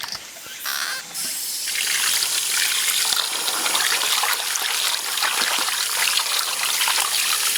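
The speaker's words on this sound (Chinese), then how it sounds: "给它洗一下，我们给它洗个几次啊。 洗掉血沫" Pig liver and kidney being rinsed in water, a steady close trickle and splash of running water with faint clatter, continuous and fairly loud after a brief softer start.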